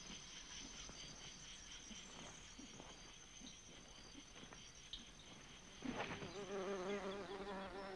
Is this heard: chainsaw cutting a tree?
no